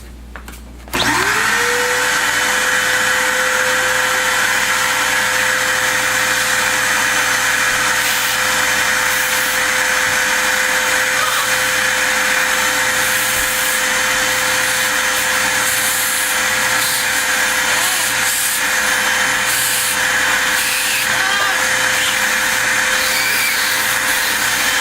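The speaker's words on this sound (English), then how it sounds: "I'm just going to fire up the vacuum real quick and clean our mess up here that we just made" A shop vacuum starts up and runs loud and steady, sucking up sawdust left from screwing plywood in a workshop, its constant whining roar filling the whole stretch without any talk.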